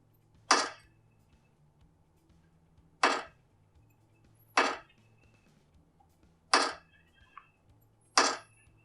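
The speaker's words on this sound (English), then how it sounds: "Now let's try gunshots." Five sharp video game gunshots ring out one at a time at irregular intervals, each a crisp crack with a short tail, over faint background hum.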